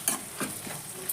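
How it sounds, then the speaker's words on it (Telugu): A spoon stirs tomato curry in a hot pan, giving a few quick scraping strokes over a faint sizzle, close and alone. "కలిపిస్తున్నాం కదా, మగ్గబెట్టుకున్నాం."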